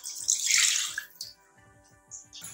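Milk pours into a frying pan in a close, gurgling liquid stream that peaks early and then trails off into a few soft drips and splashes.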